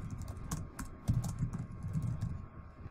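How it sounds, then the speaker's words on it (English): Typing on a computer keyboard, heard as a close run of quick, uneven key clicks and taps with no voices over them. "I will type in my own headline"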